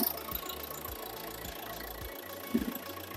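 A Renault Megane or Grand Scenic engine with 227,000 km on it idles steadily nearby, a low even rumble with a slight rhythmic knock.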